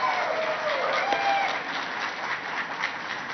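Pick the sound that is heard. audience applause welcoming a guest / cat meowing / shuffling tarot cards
audience applause welcoming a guest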